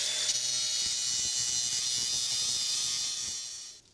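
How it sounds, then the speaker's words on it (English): Electric welding of a part onto a tractor's 3-point post hole digger, a steady close crackling hiss that holds evenly for several seconds and then cuts off at the end. "We'll go ahead and weld it on."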